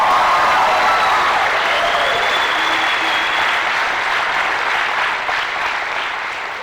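A high school graduation crowd applauds the baseball team, a loud, dense wash of clapping that holds steady and slowly fades toward the end, with faint cheering mixed in.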